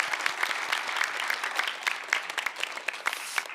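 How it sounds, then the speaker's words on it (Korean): Church congregation applauding during a Sunday worship service, a steady wash of many hands clapping at moderate distance with no voices over it. "우리 다시 한번 뜨거운 박수로 감사합니다."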